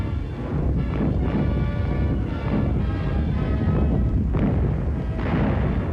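Heavy wartime bombardment from the WW2 Battle of the Scheldt: a continuous loud rumble of explosions and artillery booms, with several stronger bursts rising out of the dense, unbroken roar.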